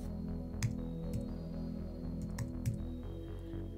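A few light keyboard clicks from typing a search term into Adobe Premiere Pro's Effects panel, scattered and quiet over a steady low background hum.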